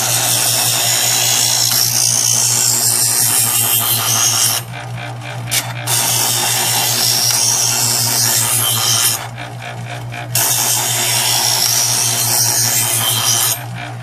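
A Chef'sChoice 120 Diamond Hone electric knife sharpener grinds a kitchen knife blade, a loud steady motor hum with harsh abrasive grinding in long passes, broken by two brief pauses as the blade is lifted out.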